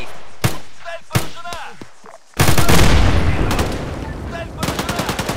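Gunfire bursts and a loud grenade blast in the military shooter Arma 3: a few sharp shots, then a heavy explosion that rolls and decays, followed by more rapid gunfire, with a voice talking early on.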